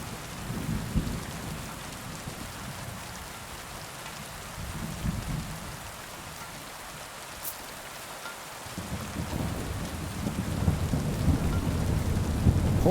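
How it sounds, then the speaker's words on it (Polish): Thunder rumbles low and distant through a real thunderstorm, with soft swelling rolls over a steady hiss of rain and no talking. "Daleko jest burza."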